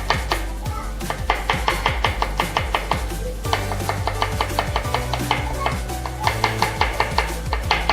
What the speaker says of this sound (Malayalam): അതുപോലെ ജിഞ്ചർ, അതുപോലെ ഗാർലിക് ഒന്ന് സ്ലൈസ് ആക്കി കൊടുക്കുക.